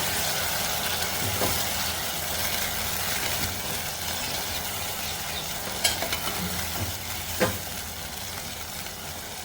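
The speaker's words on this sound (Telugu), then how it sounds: "ఇప్పుడు పచ్చి రొయ్యలు అందులో వేసుకోవాలి. రొయ్యలు అందులో వేసాక ఒకసారి కలుపుకోవాలి." Raw prawns frying in hot oil for a prawn curry, a dense loud continuous sizzle with a few sharp scrapes and knocks from stirring, close up and without talk.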